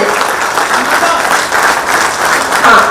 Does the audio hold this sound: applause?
yes